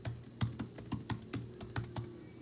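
Keys clack on a computer keyboard in quick, uneven bursts of about a dozen close taps, with no talking over them.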